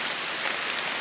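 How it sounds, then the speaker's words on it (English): Steady rain falls on a drought-dry tilled food plot, a dense even hiss of drops close by with no voices. "an ideal rain"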